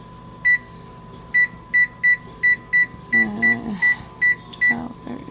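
An oven timer chirps in a series of short, sharp electronic beeps, about a dozen close together over several seconds as it is set, with some faint kitchen noise and a steady hum underneath.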